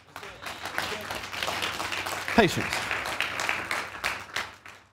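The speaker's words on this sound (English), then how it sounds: "I'm glad you're clapping." A church congregation claps through a sermon, a steady wash of applause filling the space while a single voice speaks briefly over it.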